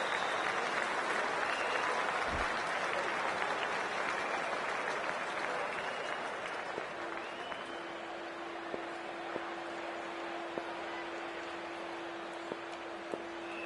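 A stadium crowd at a cricket match in the video game Cricket 24 applauds and cheers in a dense, continuous wash of clapping that eases slightly later on, with a faint steady tone underneath.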